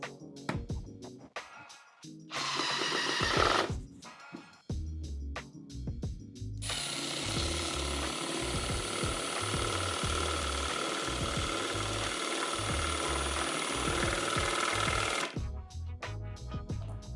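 A DeWALT hydraulic impact driver on speed 1 drives a fastener, giving a rapid rattling hammer of impacts in bursts, then one long sustained run of steady close mechanical clatter before stopping; no talk.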